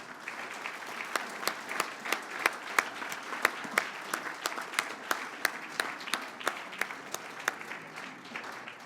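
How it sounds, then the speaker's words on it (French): An audience at a foundation seminar's closing session applauds a staff member and his team with steady, sustained clapping that stays even and moderately distant for several seconds. "je vous demande de réserver d'énormes applaudissements à Benoît et son équipe"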